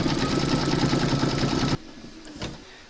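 An embroidery machine stitches a reindeer nose on a slipper piece held in a hoop, a loud steady rapid whirring hum that stops abruptly, followed by a few faint clicks.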